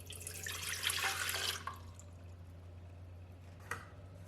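Water poured into the pan of a Russell Hobbs 23620 Fast Bake bread maker, a close, steady splashing pour lasting about a second and a half, then a brief drip or tap and one more faint splash.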